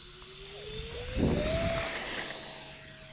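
An airplane engine rises in pitch and volume during takeoff, a whining, roaring drone that swells and then holds steady, heard without talk.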